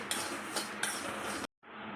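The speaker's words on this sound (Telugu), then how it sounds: "ముందుగా ఒక ప్యాన్ పెట్టుకొని 1/2 కప్ పల్లీలు 1/2 కప్ నువ్వులండి తీసుకొని బాగా ఫ్రై చేసుకోవాలి." Peanuts and sesame seeds dry-fry in a pan while being stirred, giving a continuous close scraping and rattling against the metal with periodic louder strokes, then a short pause before the stirring resumes.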